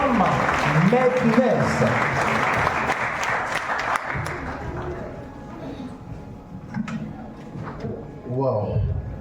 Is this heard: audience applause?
yes